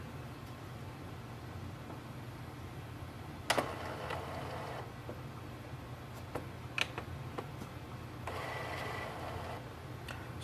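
An Epson WorkForce WF-110 printer mechanism starting up after being switched back on gives a quiet steady whir with a few sharp clicks and brief bursts of mechanical noise, heard close with no talking.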